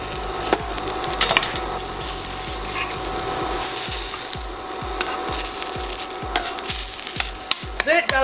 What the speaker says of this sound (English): Crushed garlic in. I want to get a nice roast on this garlic.